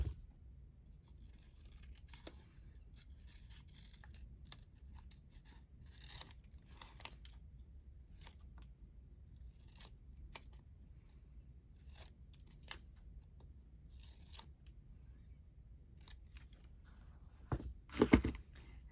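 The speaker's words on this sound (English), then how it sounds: "I'm just going to cut this one out." Scissors cut paper for upcycled envelope pockets in scattered quiet snips spread across a near-silent stretch, with a louder burst of cutting close to the end.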